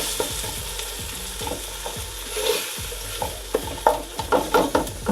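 Ingredients for fried rice being stirred and tossed as they fry in a pan, a continuous sizzle with repeated scraping and clattering strokes of the spatula growing busier toward the end, no talking.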